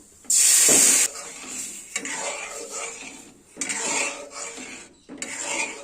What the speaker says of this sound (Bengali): দুধটা দিয়ে দিচ্ছি ভাজা হয়ে গেছে